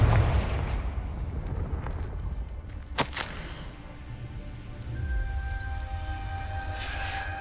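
A Confringo fire spell in Hogwarts Legacy bursts as one sharp explosive crack near the middle, a brief loud blast over a steady low rumble of game ambience, followed by a faint sustained tone.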